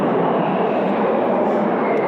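A Sukhoi Su-30MK fighter jet flies at the 1999 Paris Air Show at Le Bourget, heard as a steady, loud, broadband engine roar that barely changes over its short length.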